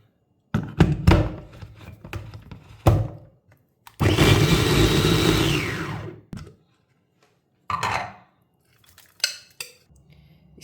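Onions chopped on a cutting board while baking oven pirozhki, giving sharp knife thunks in short bursts with a longer scraping clatter, close and fairly loud, separated by quiet pauses.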